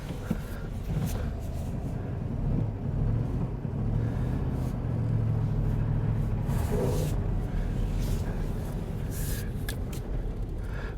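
A 1996 Chevy Tahoe idling as it is shifted into gear, a steady low engine rumble close by with faint clunks and slight rises in the engine note.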